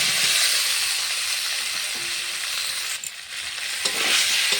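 Fried potatoes and pointed gourd are stir-fried in spice paste, making a loud, continuous close-up sizzle with stirring scrapes throughout.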